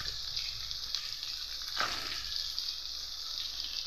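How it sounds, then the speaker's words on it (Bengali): Sliced raw onions fry in hot oil in a pan, giving a steady bright sizzle that runs throughout with a brief louder crackle partway, close and continuous, no voices. "তো পেঁয়াজগুলোকে আমি নেড়ে ছেড়ে লাল লাল করে ভেজে নেবো"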